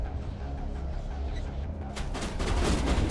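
Shotgun blasts in Mass Effect, heavy booming shots arriving in the second half over a rumbling, noisy combat background.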